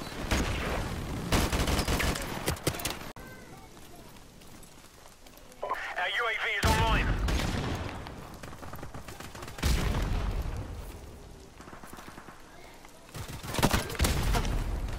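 Clusters of automatic gunfire from a team deathmatch in the video game Call of Duty 4, cracking in short bursts between quieter stretches, with horse-like game sounds and players talking over the shooting.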